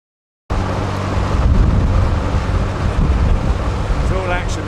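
Gusty wind buffeting the microphone at a narrowboat canal mooring, a loud steady rush that starts abruptly after half a second, with faint sounds in the background.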